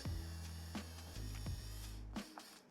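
An Alloyman 4V cordless screwdriver backs out a Phillips screw, its small motor giving a steady low whir broken by a few brief stutters and clicks as the bit grips and turns, then stopping near the end.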